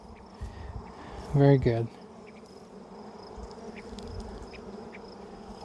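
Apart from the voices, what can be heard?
honey bees buzzing at an open hive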